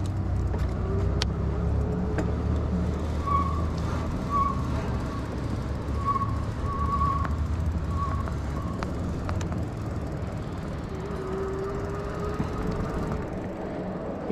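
A motorcycle ridden slowly around a wet parking lot in the rain, its engine a steady low drone with faint wet road hiss, close and continuous, without talk.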